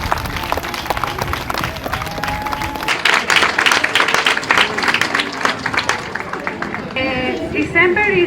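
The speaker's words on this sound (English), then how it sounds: "I would like a very big round of applause for them." A school audience at a St Nicholas School tenth-anniversary celebration claps for the staff, loud sharp claps mixed with crowd chatter and voices, the clapping thinning toward the end.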